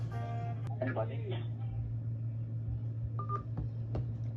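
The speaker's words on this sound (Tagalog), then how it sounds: "Okay, someone's calling." A phone signals an incoming call with short electronic tones, first a harmonic burst and later a brief beep, sounding over a steady low hum in an indoor room.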